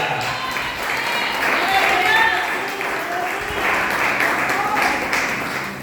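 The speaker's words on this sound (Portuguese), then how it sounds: "Aplauda ao Senhor Jesus, igreja." A church congregation claps steadily through a worship service, a sustained wash of applause with voices mixed in throughout.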